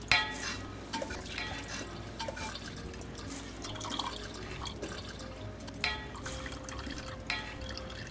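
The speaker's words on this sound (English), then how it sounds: "Give that time to strain through and tip them into the sack." Homemade vegetable stock strains through a sack, dripping and trickling with faint clinks of containers, close and steady, with no talking.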